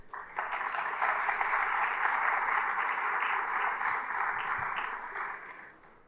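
Sustained audience applause fills a seminar hall for a municipal education teacher from Magé, Rio de Janeiro, steady and full for several seconds before tapering off.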